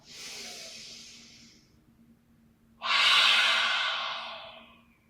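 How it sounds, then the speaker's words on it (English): Two big audible exhales during a hatha yoga session, each a long breathy whoosh close to the listener, the second louder and longer, separated by a quiet pause. "Those big, clearing, audible exhale breaths."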